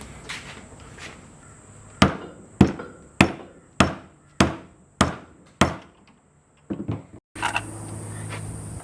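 Eight sharp, evenly spaced hammer blows ring on steel during a tail light install, each loud and close with a short metallic decay, followed by a few lighter taps.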